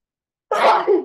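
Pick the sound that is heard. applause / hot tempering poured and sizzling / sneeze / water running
sneeze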